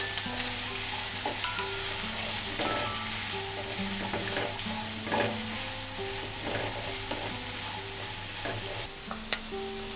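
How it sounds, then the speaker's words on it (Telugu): Chopped onions, green chilies and curry leaves frying in hot oil in a pan, a steady bright sizzle with frequent stirring scrapes and clinks of a spoon, close up with no talking. "కట్ చేసి పెట్టుకున్న ఉల్లిపాయ ముక్కలు వేసుకోవాలండి."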